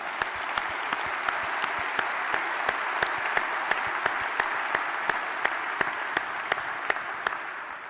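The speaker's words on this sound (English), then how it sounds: "Please give them a round of applause." Luncheon audience applauding members of the city council at a State of the City event in Noblesville, a sustained wash of clapping with a few sharp, distinct claps standing out at a regular pace over the whole stretch.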